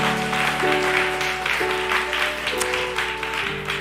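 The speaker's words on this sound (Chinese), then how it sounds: "好，我们拍手来祝福他们哦。" Guests at a church wedding service applaud the newly married couple with sustained, moderately loud clapping from a room full of people, while steady organ or keyboard chords play underneath.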